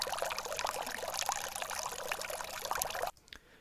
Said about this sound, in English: Now to make things sound a little bit more underwater, I've added this track called Water Fountain.